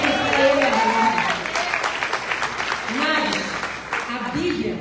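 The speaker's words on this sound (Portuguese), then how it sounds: "Pode aplaudir para ele agora." Church congregation applauding at a miracle crusade service, a steady wash of clapping with voices mixed in and people talking over it throughout.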